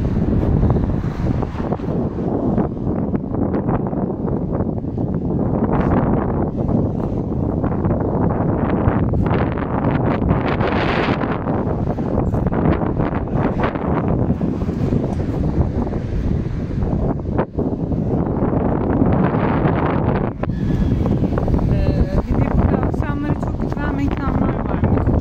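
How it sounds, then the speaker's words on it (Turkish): Strong storm wind buffets the microphone on a seaside shore at Karasu in Sakarya beside a rough, wave-tossed Black Sea, a constant roaring gust with surf beneath while someone talks throughout. "Şu anda zaten deniz alabildiğine dalgalı. Gösterelim. Bayağı bir fırtına yani."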